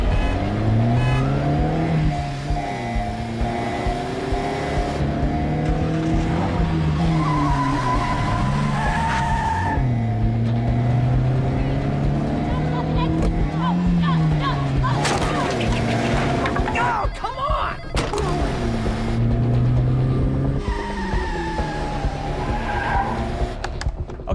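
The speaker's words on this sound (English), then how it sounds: "we could experience the car chase and be a part of it" Car chase in a Quantum Break video game cutscene: roaring engines and long screeching tire skids fill the scene continuously, with revving surges and squeals rising over the constant drone, while voices speak beneath.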